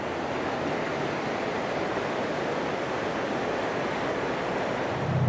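Creek water rushing steadily beside creekside balconies in Gatlinburg, Tennessee, a constant broadband wash with no breaks, close and fairly loud throughout.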